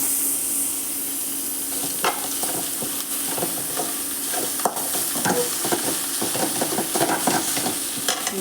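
Greens (keerai) and onion are stir-fried in a hot pan with a steady loud sizzle and hiss. Frequent scraping and clattering stirring strokes sound over it, with no speech.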